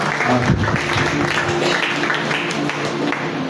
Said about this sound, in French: Est-ce qu'on peut rendre grâce à Dieu par les acclamations?